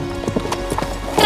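Horse hooves clip-clopping in quick, close, loud beats over a short stretch, ending with a rising noisy burst.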